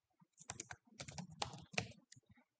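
Rapid bursts of keystrokes on a computer keyboard, close and crisp, clustered in quick uneven runs with brief pauses between them.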